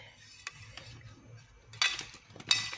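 A spoon stirs onion into a sauce in a cooking pot, with soft scraping and a few sharp metallic clinks and scrapes against the pot, close and fairly quiet.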